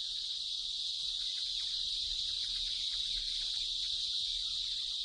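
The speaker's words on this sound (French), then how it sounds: "c'est la cigale qui a le chant nuptial le plus bruyant" A continuous, high-pitched buzzing drone of a cicada's loud mating song, steady and unbroken, with no other sounds around it.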